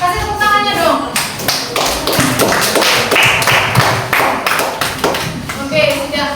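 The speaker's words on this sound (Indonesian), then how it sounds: "Kasih tepuk tangannya dong." A school class applauding at a teacher's request, a loose burst of hand clapping with scattered taps and shuffling, mixed with children's voices chattering over it.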